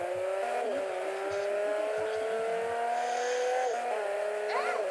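A car driven in Garry's Mod hums steadily with engine whine, shifting pitch as it accelerates and turns, with brief tire-squeal touches, heard alone without talk.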